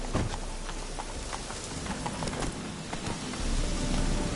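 Roach the horse galloping in The Witcher 3 video game, a steady rapid clip-clop of hooves running through the whole stretch with no talking, over a busy background wash that swells louder near the end.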